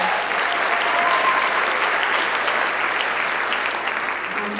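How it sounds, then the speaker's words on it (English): A school spring concert audience applauds the accompanist with dense, sustained clapping that stays loud and even throughout, filling the hall without a break. "I would still like to give her a shout out and a round of applause"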